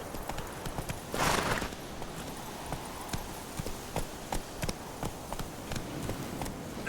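Roach, the horse in The Witcher 3: Wild Hunt, gallops with rhythmic hoof clops at a steady pace and a brief rushing burst early on, moderately close and fairly quiet.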